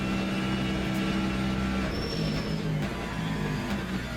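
Race cars lapping Spa in the video game Le Mans Ultimate, a loud continuous engine drone with steady pitch and a brief higher whine partway through, with no talking.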